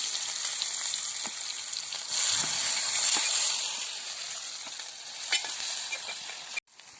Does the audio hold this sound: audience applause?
no